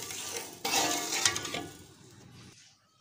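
Sugar syrup for sandal sharbat, with citric acid, food colour and sodium benzoate, being stirred as it cooks in a pot: a short burst of scraping and clinking up close that fades out within a couple of seconds.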